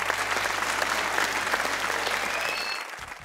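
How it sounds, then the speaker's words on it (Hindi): An audience claps for a contestant at a Hindi-language cricket talk show, a dense burst of close applause that holds steady and then tapers off abruptly at the end. "बहुत पप्पू के लिए तालियां होनी चाहिए"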